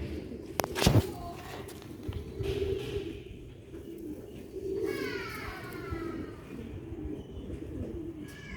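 Old-breed Sialkoti pigeons coo in low, throaty bursts that repeat at close range, with a knock near the start and a few higher chirps scattered through.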